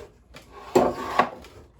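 A wooden drawer on a handmade plywood Senet gaming table slides with two distinct scraping strokes and soft knocks, close and clear in a quiet room, with no talking.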